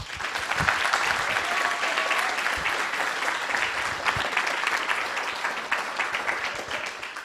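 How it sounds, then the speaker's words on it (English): Sustained applause from an audience, a dense wash of clapping that stays loud throughout. "let's give them another round of applause"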